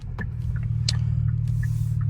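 A sports car engine in comfort mode gives a steady low rumble that builds gently under acceleration, with a few faint clicks and ticks inside the cabin and no talk.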